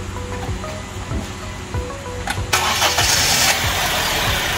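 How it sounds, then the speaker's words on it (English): A Honda car engine cranks with a rhythmic starter churn, then catches and settles into a steady, loud idle, heard close with no talking. "अभी हम अपनी गाड़ी start करेंगे और check करेंगे कि snap throttle पर value क्या आती है"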